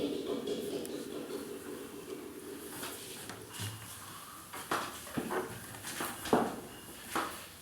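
Meat is stir-fried in a pot for biryani, heard as faint scraping and clinking of a utensil against metal in irregular bursts, with quieter stretches between and no sizzle standing out.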